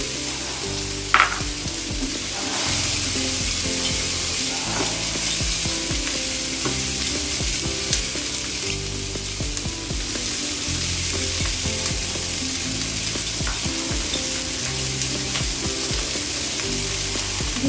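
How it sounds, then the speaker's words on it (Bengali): Cubed chicken and capsicum frying in a pan for baked pasta with Alfredo sauce, a dense constant sizzle with repeated scraping and clattering of a spatula stirring throughout, close and loud. "চিকেনটা আমি কিছুক্ষণ রান্না করে নিব মোটা করে কেটে নিয়েছি কিউব কিউব করে কেটে নিয়েছি দিয়ে দিচ্ছি ক্যাপসিকাম"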